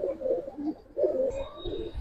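A pigeon of an old gribaz breed coos nearby in two soft, low, throaty phrases with a short gap between them, fairly close and alone.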